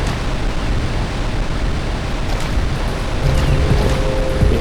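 A waterfall in the Jak and Daxter video game, Sandover Village, splashing as a steady loud broadband roar of falling water that stays constant throughout, with no talk over it.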